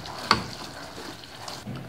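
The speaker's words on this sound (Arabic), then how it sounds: "نبقاو نحركو فيه." A spoon scrapes and stirs thickening caramel sauce in a pan. One sharp clink is followed by soft, faint swirling sounds.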